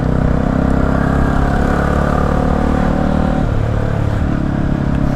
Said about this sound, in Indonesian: tadi gue dengar suara motor gue sendiri tuh